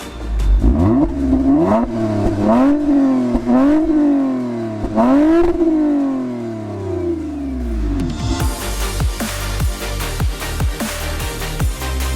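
A 2020 Toyota Camry TRD with a 3.5-liter 301-horsepower V6 accelerating hard from 0 to 60, the engine revving loud and close through several rising gear pulls, then settling into a rougher, lower drone.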